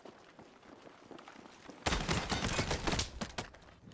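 Assault rifle firing in the video game Battlefield REDSEC, a sudden loud burst of rapid automatic shots that starts partway through and continues to the end, following faint scattered distant shots.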